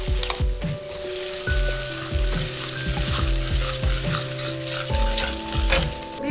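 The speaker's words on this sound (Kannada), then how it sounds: "ಟೊಮಾಟೊ ಫ್ರೈ ಆಗಿದೆ. ಮಸಾಲ ಹಾಕ್ತಾಯಿದ್ದೀನಿ." Masala and tomato frying together in a pan for a Mangalore coastal-style fish curry: a steady close sizzle broken by repeated scraping stirs, with a faint tonal hum behind and no talking.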